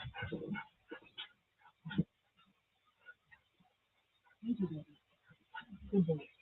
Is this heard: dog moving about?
yes